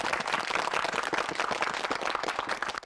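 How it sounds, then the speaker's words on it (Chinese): A group claps in steady, uneven bursts after a speech announcing the exam in a town square, the dense patter filling the whole stretch at close range with little talk over it. "鼓掌。"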